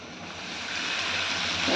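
Water hits a hot pan of frying whole spices, coriander, turmeric, chili and cumin powder for a Bengali mixed fish curry, giving a steady broadband sizzle and hiss that swells slightly louder toward the end.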